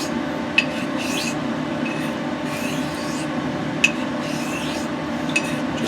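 Straight razor hand honed heel to toe on an oilstone, a steady continuous rasping scrape with a few sharp faint clicks, close and alone.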